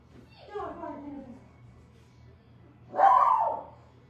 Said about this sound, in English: Let me see why my dog's barking.